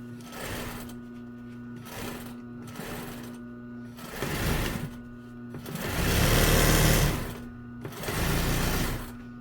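Sewing machine stitching two fabric rectangles together for a pet bed, running in several short bursts with brief pauses, a rapid mechanical chatter that grows louder and longer toward the end, close up.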